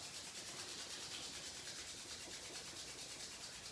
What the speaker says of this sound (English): when you're ready, rub your hands together